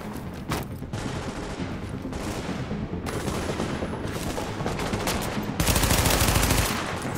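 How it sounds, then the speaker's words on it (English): Sustained gunfire and machine-gun bursts in The Division video game, loud and dense throughout, with heavy fusillades building toward the end. "these motherfuckers shooting out here, bro."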